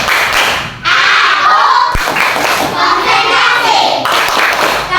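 A class of children performs the tepuk konsentrasi clapping routine, loud rhythmic hand claps with thumps, close and filling the room, a few voices mixed in.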